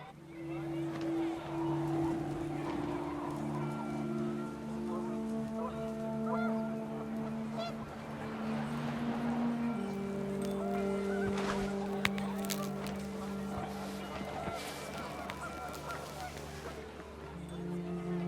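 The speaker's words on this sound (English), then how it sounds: "The wind picked up, and panicked geese appeared and quickly went." Geese honk in the video game What Remains of Edith Finch. Their tonal calls overlap in long, steady bursts across windy outdoor ambience, while a voice talks throughout.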